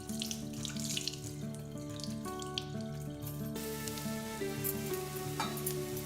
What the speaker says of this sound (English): Wash the rice well in fresh water.